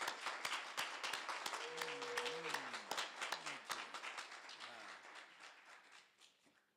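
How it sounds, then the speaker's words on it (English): Audience applause at a Black History celebration, a small crowd clapping in a brisk, uneven patter with a sung or hummed tone over it, fading out toward the end. "Let's give Adeola Quintero another round of applause"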